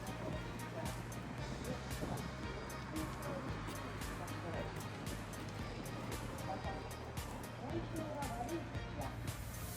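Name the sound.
sea waves at Motobu beach, Okinawa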